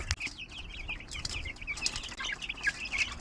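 A crowded flock of about fourteen birds, with chickens among them, moves nearby in a pen, soft wing flaps and rustling mixed with dense chirps and calls that carry on without pause.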